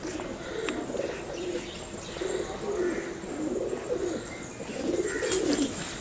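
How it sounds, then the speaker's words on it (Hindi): Pigeons coo in repeated low, rolling phrases close by at a livestock dairy farm in Punjab, with faint chirps and background noise around them. "ये देखिए कबूतर"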